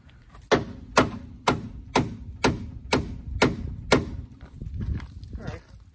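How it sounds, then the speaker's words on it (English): A hammer strikes a metal part on a 1981 Camaro Z28 in eight sharp, evenly spaced blows about half a second apart, fairly close, followed by quieter shuffling noise. "I could probably beat it on with the hammer."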